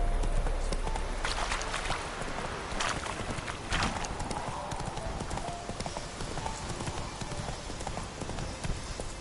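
A horse gallops in the Witcher 3 video game, its hooves pounding in rapid, continuous clip-clop, loud and close, with faint voices briefly in the background.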